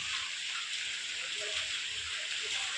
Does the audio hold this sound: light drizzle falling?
yes